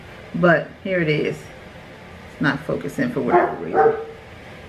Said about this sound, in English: Excuse my dog out there